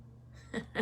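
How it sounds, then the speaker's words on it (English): A feral cat gives two short, faint meows in quick succession, each a brief rising cry in a quiet room. "I have a feral cat that I have adopted, and she knows when I'm in here."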